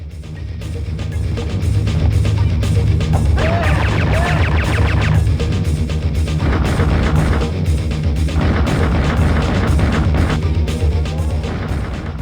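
Gunfire and explosions from the PlayStation game Apocalypse form a dense, continuous wall of action sound, with repeated sharp shots layered over heavy booming bursts throughout.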